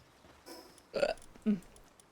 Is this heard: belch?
yes